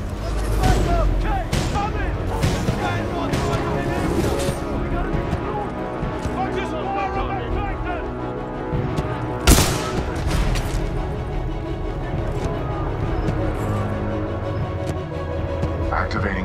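Supporting gunfire in Titanfall 2 booms and crackles in repeated heavy volleys over loud battle noise and music, with one sharp blast standing out partway through.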